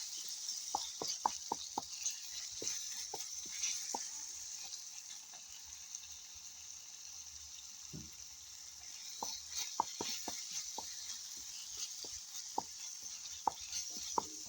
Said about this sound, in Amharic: በደንብ እንደዚህ እያደባለቃችሁ ማማሰል ማለት ነው